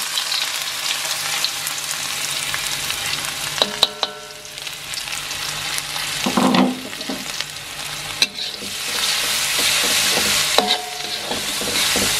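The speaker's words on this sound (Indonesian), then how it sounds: "Sekarang kita tumis dulu bumbunya." A ground garlic, pepper and onion spice paste sautéing in a pan, a continuous close sizzle with intermittent scraping and clinking stirs, swelling louder in places, with no talking.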